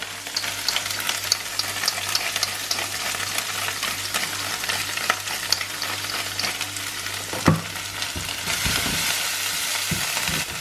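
Garlic paste and onion sizzling in a pan, a steady crackling fry with occasional stirring clatter near the end.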